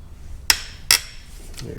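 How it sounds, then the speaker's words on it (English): Sharp metallic hammer strikes ring out three times at uneven intervals, each a bright clank with a short ringing tail, as engine rod nuts torqued to 50 foot-pounds are knocked loose during an engine teardown. "So we're going to break the torque on those nuts."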